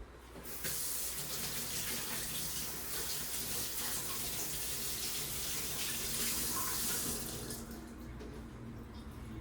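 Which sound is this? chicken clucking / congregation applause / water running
water running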